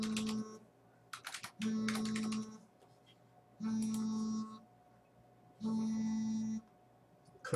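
Someone types a web address on a computer keyboard in four short bursts of rapid key clicks, with quiet pauses between them and no talking.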